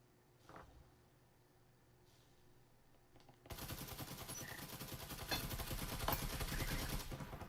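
Gunfire from the VR shooter Breachers is fired blind through a wall. A quiet stretch gives way to a sudden, sustained barrage of rapid, loud shots that keeps going to the end.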